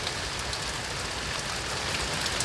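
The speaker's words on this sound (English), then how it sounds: "One heck of a windstorm and rain" Heavy rain and strong wind from Hurricane Dorian, heard from inside a cave, form a dense, constant roar of pelting drops with no pauses and no voices.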